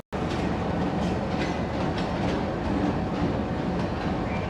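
The Jaffar Express rolls out from a platform at Lahore Railway Station, giving a steady, loud rumble with rhythmic clickety-clack from the wheels and no voices.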